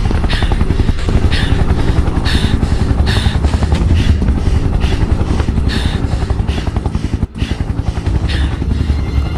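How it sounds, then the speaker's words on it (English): Loud, close helicopter noise in an SCP video game, with a heavy rhythmic rotor chop and engine drone, continuing steadily with one brief dropout. "Not even the helicopter sees me!"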